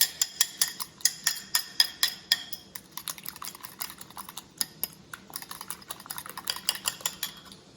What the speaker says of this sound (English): go ahead and stir it up. Mix that up real nice.